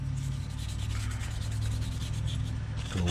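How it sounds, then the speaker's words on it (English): Rapid, steady rubbing of 320 grit sandpaper scuffing a plastic part of a 1:350 scale Star Trek Enterprise model kit, close and continuous with rhythmic back-and-forth strokes. "So we're just going to scuff this real good to make sure our paint sticks to it nice."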